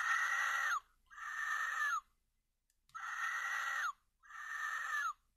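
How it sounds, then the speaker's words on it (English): A Hasbro Jurassic Park Alpha Pteranodon toy plays its electronic scream four times, shrill falling shrieks of about a second each separated by short silences, close and clear. "So basically it makes the Pteranodon scream, it sounds like."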